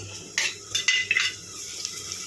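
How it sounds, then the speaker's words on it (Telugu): Ginger garlic paste frying with onions in a pan, heard as a few close scraping and clinking strokes of a spoon against the metal over a low background sizzle, then a quieter steady hiss. "ఇప్పుడు అల్లం వెల్లుల్లి పేస్ట్ వేసుకుందాం"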